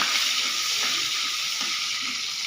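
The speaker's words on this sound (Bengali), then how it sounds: "এবার পেঁয়াজগুলো ছেড়ে দিচ্ছি" Chopped onions drop into hot oil already holding cumin seeds and dried red chili. They fry in a loud, steady, close-up sizzle with no voices.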